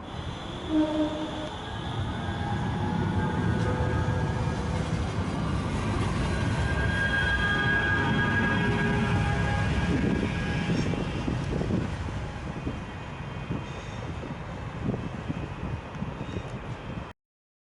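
A Manchester Metrolink tram on the Trafford Park Line rumbles steadily along the rails for a long stretch, with squeals and metallic whine as it turns around, heard from on board.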